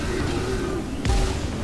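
Gunfire in The Bureau, a tactical shooter, with one heavy boom-like shot landing near the middle over steady rumbling game ambience.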